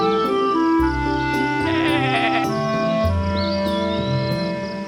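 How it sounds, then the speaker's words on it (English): A sheep bleats in a kids' cartoon, set over bright background music with a shaky, wavering call near the middle of the clip. "Watch out, Lolly, shouts Mr. Woolly the sheep"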